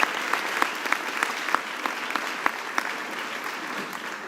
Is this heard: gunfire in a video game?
no